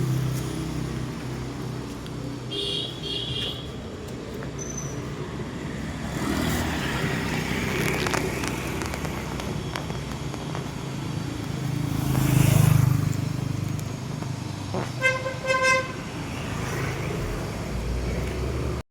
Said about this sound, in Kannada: ಗಾಡಿ ಬರ್ತದೆ ನೋಡ